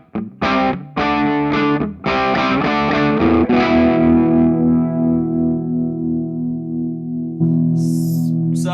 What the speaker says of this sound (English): now I have my Les Paul custom copy. So basically, got it on the gain channel, fairly low gain, and this is kind of what the tone we've got